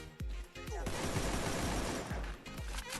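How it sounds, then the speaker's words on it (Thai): Gunfire in the mobile shooter Free Fire, a few sharp single shots followed by a dense sustained burst of rapid fire and more scattered shots, fairly close and loud, with no voices over it. "ข้างบนมีคนยิงกัน"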